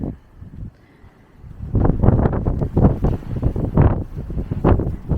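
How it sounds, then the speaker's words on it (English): Gusty wind on a mountain hiking trail buffets the microphone in heavy rumbling bursts, quieter at first and then rising into loud, uneven roaring. "It is windy"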